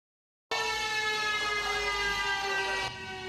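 A barrier lake warning siren blares during an evacuation drill in Guangfu, Hualien: a sudden, sustained harmonic wail that starts abruptly and holds steady, softening slightly near the end.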